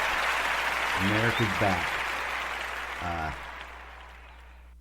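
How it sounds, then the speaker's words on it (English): Crowd applause at a comedy show that fades as it goes on, with someone speaking briefly over it. "Clap it up, bitch."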